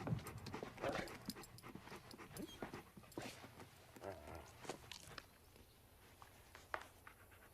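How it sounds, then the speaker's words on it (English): A dog pants close by in quick, breathy bursts. Scuffling footsteps and small movements sound around it, and no one speaks. "Dog."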